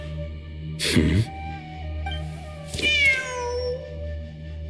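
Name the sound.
cat meowing in Genshin Impact video game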